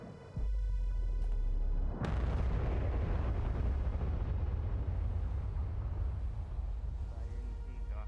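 A loud, deep explosion in a VRChat roleplay game bursts in after a short low rumble and rolls on as a sustained, heavy roar with crackling debris that slowly fades over several seconds.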